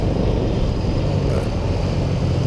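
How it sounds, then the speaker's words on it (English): Steady low rumble of road traffic, an engine droning close by throughout with a constant hum of tyres. "you're just going to get past these cars"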